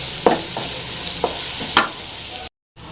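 Chopped onions frying in hot oil with salt for a potato masala to serve with puri, a steady soft sizzle broken by a few sharp scrapes of stirring, close up and without talk, ending in a brief dropout.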